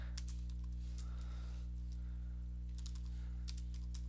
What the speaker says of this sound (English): I will type in sudo.